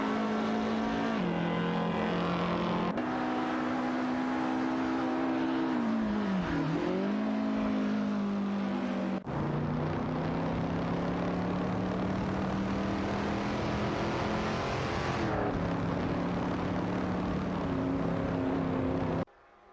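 Race cars in an AI racing video game roar continuously, their engine pitch rising and falling through gear changes as several cars pass, loud and steady throughout without talk.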